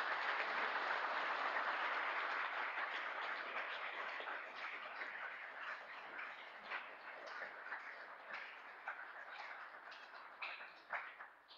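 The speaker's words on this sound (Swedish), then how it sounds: "En applåd till församlingen." A conference congregation at a Baptist annual meeting applauds, dense steady clapping that starts full and gradually thins into scattered claps, heard from a distance with no talking.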